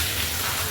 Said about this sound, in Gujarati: આ તો આકાશે આપી હતી એનો વરસાદ થયો છે